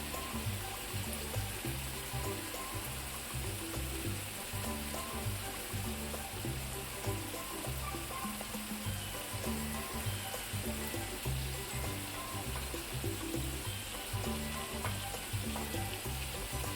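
Eggs fry in a spicy masala in a pan, a dense continuous sizzle and crackle with a steady bubbling texture throughout, close and even in level.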